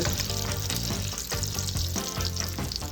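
Turkey bacon sizzling and frying in a pan, a steady crackling hiss with occasional stirring scrapes, close and uninterrupted without talk.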